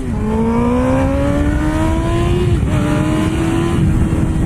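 A motor engine revs hard alone, its pitch climbing smoothly through a rising sweep, easing back, then climbing again, loud and close with no voices.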